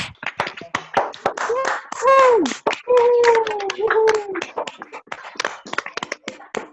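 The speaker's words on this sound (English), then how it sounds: "Please unmute and give them a thunderous round of applause" Scattered, uneven clapping from participants unmuted on an online meeting during a Toastmasters club officers' installation, quick hand claps coming and going while a voice calls out over them partway through.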